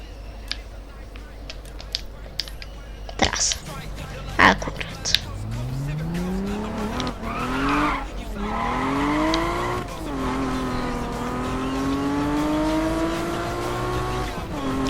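Car engine in the Need for Speed racing game, revving and rising in pitch with possible tire skidding, heard steadily under someone talking.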